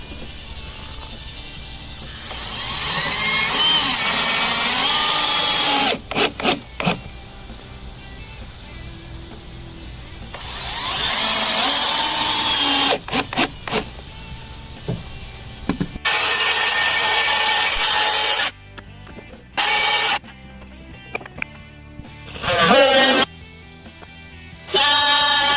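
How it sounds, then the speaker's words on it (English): A power drill drives color-matched screws into scalloped Trex composite deck boards, with long loud whirring runs of the motor broken by short stops and clicks, close by. "we're putting in color match screws every 16 inches on center because they're scalloped boards."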